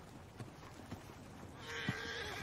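In Red Dead Redemption 2 Online, a horse's hooves clop in a few soft, spaced beats, followed by a bright whinny rising over steady background noise.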